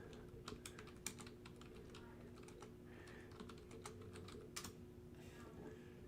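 Rapid keystrokes clatter on a computer keyboard during a League of Legends tournament livestream, irregular bursts of close, crisp clicks with brief pauses, quiet against a faint steady electrical hum.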